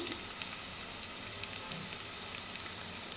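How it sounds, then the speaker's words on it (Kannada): Green chillies fry in hot oil, a steady close crackling sizzle with faint pops and no voices. "ಹಸಿಮೆಣಸಿನ್ಕಾಯಿ ಎಲ್ಲ ಸ್ವಲ್ಪ ಘಾಟೆಲ್ಲ ಹೋಗಲಿ, ಎಣ್ಣೆಲೇ ಫ್ರೈ ಆಗಲಿ."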